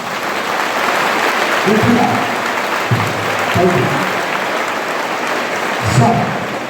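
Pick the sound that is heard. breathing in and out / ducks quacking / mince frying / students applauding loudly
students applauding loudly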